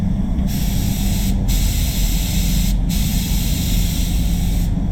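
A spray gun lays clear coat on a Ford FG Falcon in a steady, loud, close hiss, broken by three brief pauses where the trigger releases.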